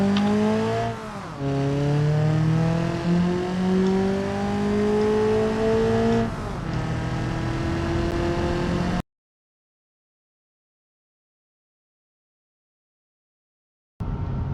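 Race car engines rev hard during a BeamNG endurance race as the cars overtake while their brakes glow and smoke. A loud, close engine note climbs and drops through gear changes, then cuts to silence before briefly returning.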